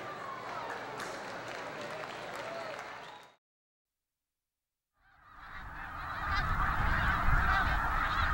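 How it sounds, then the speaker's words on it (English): Large flocks of snow geese honk as they fly in, a dense, loud chorus of overlapping calls that cuts out briefly and then returns fuller and louder, with low rumbling underneath. "You'll just see waves upon waves upon waves of snow geese coming in."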